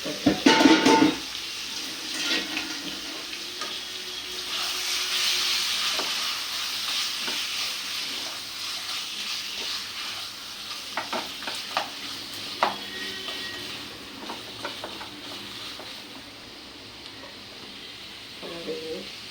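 A spatula stirs brinjal or chicken frying in a pan for a Kerala lunch, scraping and clinking every so often over a continuous soft sizzle, with brief speech at the start.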